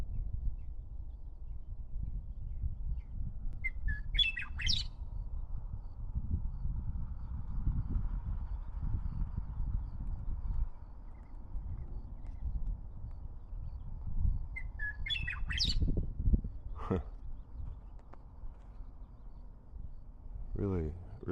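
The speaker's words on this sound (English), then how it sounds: "Bird up there." A bird call sounds outdoors, twice, as brief high whistled notes over a steady low rumble of wind or an idling engine.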